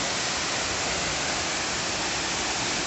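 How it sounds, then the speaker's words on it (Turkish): Waterfall near Porta Monastery in Şavşat roaring steadily up close, a dense, unbroken rush of falling water filling the whole moment with no other sounds. "Burada çok güzel bir şelalemiz var."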